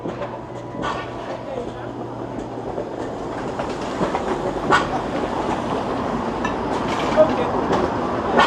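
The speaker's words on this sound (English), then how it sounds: "The Bathurst streetcar." A Bathurst streetcar rolls past on a Toronto street at night, giving a steady rumble with light rail clatter and a few sharp clanks against city background noise.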